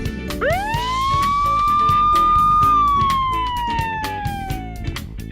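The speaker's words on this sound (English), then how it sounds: "And these are sirens." A toy fire truck siren rises sharply, holds a steady wailing tone, then slowly falls, with clicking and rattling underneath.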